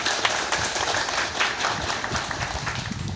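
Applause from a village audience at a relief-bag handout by a subdistrict administrative organisation chief, with dense, steady clapping that fills the stretch and stays fairly even in loudness.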